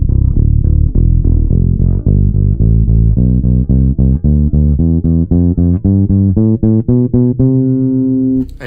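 Epiphone Toby Deluxe V electric bass with the treble turned all the way down, played a little hard in a steady run of round, punchy plucked notes that climbs and finishes on a held note, close up and without speech.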